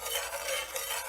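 A warm paste of weld paint mixture with dissolved alum is stirred while heating, making a continuous soft swishing and scraping close by, steady and quiet.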